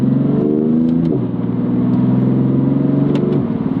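BMW M3 Competition's 3.0-litre twin-turbocharged S55 inline-six running steadily up close, a loud continuous engine drone that dips slightly in pitch twice, as at gear changes, with no talk.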